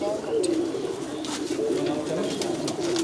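Pigeons coo close by, a soft repeated throaty burble continuing through the short stretch, with a few higher chirps and a voice briefly in the background.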